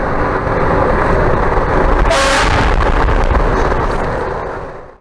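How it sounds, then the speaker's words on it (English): A loud train-style air horn mounted on a vehicle blasts under a highway overpass, one long roaring note with a brief brighter burst in the middle, then fades at the end with no talk. "We're gonna honk the horn under this overpass here and see what happens."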